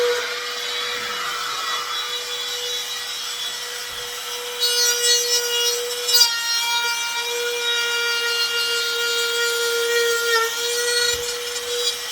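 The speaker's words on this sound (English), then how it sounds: "Sandpaper." Sandpaper rubs steadily on wood while a House Sparrow nest box is built, a close, continuous scratchy hiss over a steady tonal hum, with no talking.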